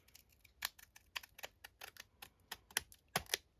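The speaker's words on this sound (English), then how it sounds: "I want to take my pinking shears, I think. And cut a bit off this." Pinking shears snip through a scrap of paper in a quick, uneven series of sharp crisp clicks and crunches, close and quiet with no talk.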